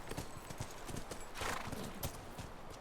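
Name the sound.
horses in video game The Last of Us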